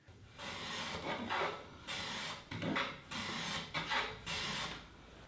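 Hand tool rasping repeatedly along the edge of a wooden through tenon on a board clamped upright in a vise, forming a chamfer; five or six steady, close back-and-forth strokes with short pauses between, no talk.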